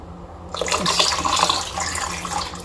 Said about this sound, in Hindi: ये पानी हमने सारा शामिल कर दिया।